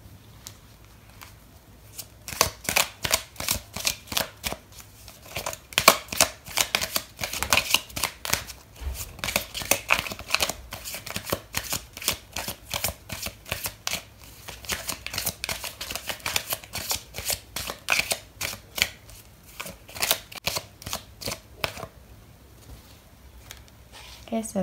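Tarot cards being shuffled in a steady flurry of rapid riffling slaps and flicks, close and fairly loud, running for most of the stretch with brief pauses at the start and end.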